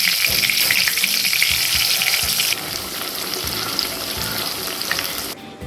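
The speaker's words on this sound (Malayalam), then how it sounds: "ഇനി നമ്മുടെ ചിക്കൻ ഓരോ പീസായി ഇതിലേക്ക് ഇട്ട് കൊടുക്കാം." Chicken pieces dropping into hot oil with curry leaves in a pan for chicken gravy, giving a loud continuous sizzle and crackle with some low thumps early on, then a brief cutoff near the end.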